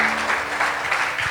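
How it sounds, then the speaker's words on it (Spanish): Brief applause from a church congregation during a Spanish-language service, a short burst of steady clapping heard at moderate distance. "¿Cuánto da un aplauso al Señor?"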